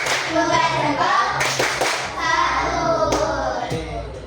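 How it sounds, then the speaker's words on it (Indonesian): A classroom group of children claps hands softly in several short bursts of patter, close by, with a teacher's and children's voices talking over it. "Kasih tepuk tangan. Tepuk tangan halus."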